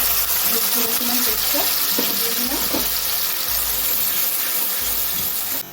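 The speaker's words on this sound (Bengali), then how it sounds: "এই তেলের মধ্যে দিয়ে দেবো আদা কাঁচা লঙ্কা" Ginger and green chilli hit hot oil for a Navaratna korma, producing a loud, continuous sizzle with some stirring noise and splashy, watery texture throughout.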